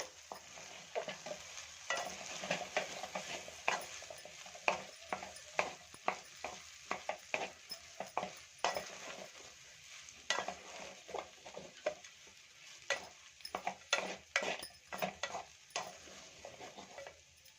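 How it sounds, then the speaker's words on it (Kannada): Cooked rice is mixed with amla gojju, made from hill gooseberries, by hand or spoon, giving soft, repeated squishing and scraping strokes at an irregular rhythm, quiet and close with no talk. "ನಿಮ್ಗೆ ಎಷ್ಟು ಬೇಕೋ ಅಷ್ಟು ಗೊಜ್ಜನ್ನ ಇಟ್ಕೊಂಡು ಅನ್ನಕ್ಕೆ ಹಾಕ್ಕೊಂಡು ಕಲಿಸ್ಕೋಬೋದು"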